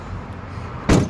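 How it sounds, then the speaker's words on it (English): The sliding side door of a 2018 Chrysler Pacifica Touring Plus Hybrid wheelchair van shuts with a single loud, close thud near the end, after a low rumble of the van's surroundings. "shut the door just like so."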